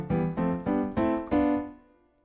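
A software piano plays a short run of five block chords, one roughly every third of a second, the last held and fading out, soft and clean with no voices.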